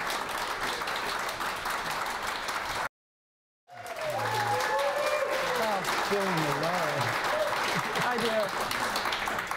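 Studio audience applauds steadily before and after a brief silent gap, with a person talking over the clapping in the second half.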